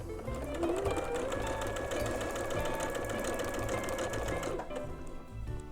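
A sewing machine runs steadily for about five seconds, whirring and stitching a quarter-inch seam on a Flock quilt block for a sampler quilt, then stops. No voices.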